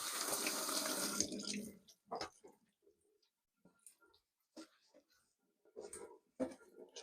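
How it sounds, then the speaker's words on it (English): Tap water runs loudly into a sink as tomatoes are washed, then stops, leaving soft splashes and handling sounds while a person talks. "Wash the tomatoes."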